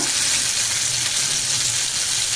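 Fish fries in a pan, a loud, dense and continuous close sizzle that holds steady throughout with no talk.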